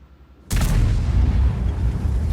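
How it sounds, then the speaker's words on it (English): A single heavy cannon shot from the FV4005 tank in a video game, loud and booming, with a sharp onset followed by a long rumbling decay that fills the rest of the moment. "Fires a blind shot there"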